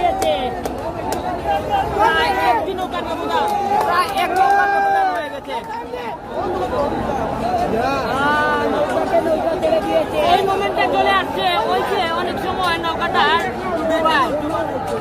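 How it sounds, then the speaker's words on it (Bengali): A large spectator crowd at the Badaghat boat race keeps up continuous cheering and babble, with a commentator talking loudly over it throughout. "এবং দর্শকদের উল্লাস"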